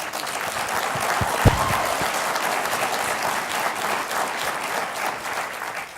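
An audience at the Arctic Circle Assembly applauds Senator Lisa Murkowski, a dense, steady wash of clapping from a large crowd that holds for several seconds and begins to fade near the end.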